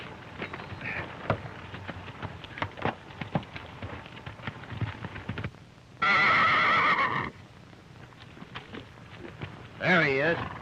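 A horse gives two loud, close whinnies, one long and one shorter, over a run of hooves beating in quick rhythm on a 1930s western soundtrack, with no voices.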